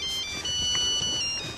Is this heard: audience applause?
no